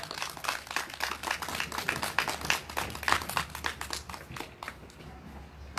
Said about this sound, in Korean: 우리 도안영님께 큰 박수 부탁드리겠습니다